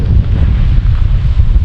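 Wind gusts across an open campground at a state park in South Dakota, a loud, continuous buffeting roar on the microphone with no voices.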